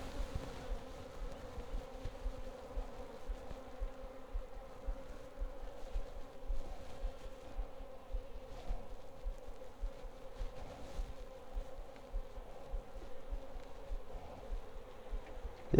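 Honey bees hum steadily in an open hive on a homestead, a soft dense buzz close by that holds without a break and has no voices over it.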